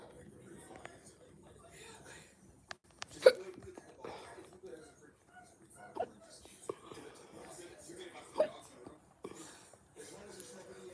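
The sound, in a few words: hiccups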